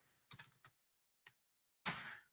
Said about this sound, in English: We're going to be typing CSS in between its head tag.